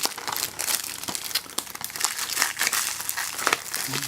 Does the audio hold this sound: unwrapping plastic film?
yes